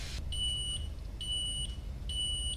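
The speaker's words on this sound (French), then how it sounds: "Vous avez entendu le petit bip, c'est que les gaufres sont cuites." Three evenly spaced electronic beeps sound from a waffle maker signaling the waffles are cooked, each about half a second long, clear and high-pitched over a quiet hum.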